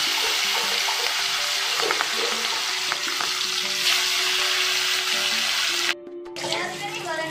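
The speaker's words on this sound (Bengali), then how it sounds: "এবার মাথাগুলো আমি ভাজা করে নিচ্ছি।" Bhetki fish heads fry in hot oil in a wok, giving a loud, steady crackling sizzle that cuts out briefly near the end and then returns with scattered spatters.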